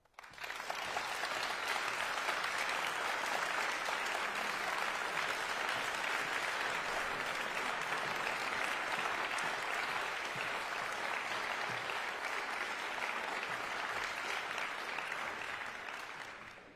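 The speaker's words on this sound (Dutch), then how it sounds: "mag ik een heel hartelijk applaus voor Luca van der Waals en Natasja Dal." Sustained applause from a concert audience at a national competition final, a dense, loud wash of clapping that swells in quickly, holds steady for about sixteen seconds and tapers at the end.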